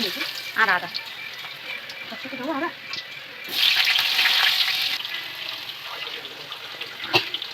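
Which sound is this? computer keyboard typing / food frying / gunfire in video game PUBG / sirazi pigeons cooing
food frying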